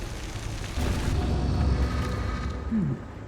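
An Incendio fire spell in a video game igniting pyres, a sustained roaring whoosh of flame that swells and holds for a couple of seconds before cutting off, loud and close.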